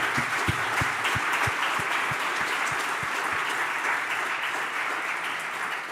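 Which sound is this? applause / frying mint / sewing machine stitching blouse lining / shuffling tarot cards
applause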